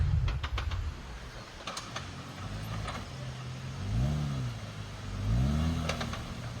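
A Jeep Wrangler Rubicon with a manual transmission drives past, its engine rising and falling in two revving surges. There are a few sharp clicks early on, with no talking.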